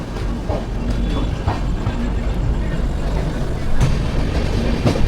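Steady low rumble of a train rolling along the tracks out of Howrah toward Ranchi, with faint rhythmic clatter and occasional louder knocks throughout.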